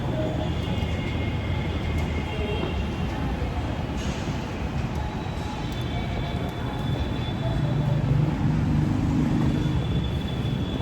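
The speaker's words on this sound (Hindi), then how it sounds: "फाइनली मैं मेट्रो स्टेशन पहुँच गई हूँ और अभी मेरी मेट्रो आने वाली है।" Metro train pulling into a station, a steady broadband rumble and rolling rail noise that holds near and loud throughout with a slight swell toward the end.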